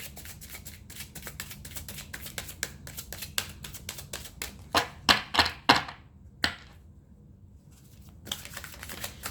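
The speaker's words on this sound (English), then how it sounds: "Cards are big and hard to shuffle when they're like that." Oversized tarot cards are handled and shuffled close by: a run of quick dry clicks and taps, then several louder riffling bursts, a short pause, and a few more scattered clicks.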